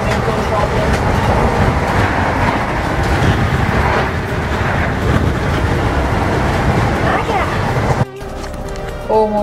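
A passenger train bound for Cardiff rumbling steadily along the track, a loud continuous roar heard from inside the carriage that drops away abruptly near the end, with voices talking over it.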